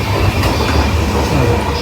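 A train in Poland, travelling toward Zakopane, rolls steadily along the rails, a loud continuous rumble with faint rhythmic clatter, heard from close by with no talking.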